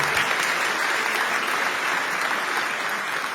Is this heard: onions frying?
no